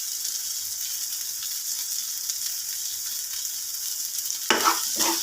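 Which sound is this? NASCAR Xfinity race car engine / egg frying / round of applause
egg frying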